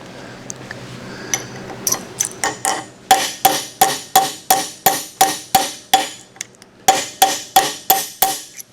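Steady hammer blows ring out on a cast-iron Columbian No. 206 vise being restored, about fifteen sharp metallic strikes in an even rhythm, close and loud, with a few lighter taps first.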